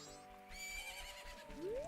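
Epona the horse whinnies in the video game The Legend of Zelda: Majora's Mask, a single fairly loud neigh over steady game music, with a rising tonal sweep near the end.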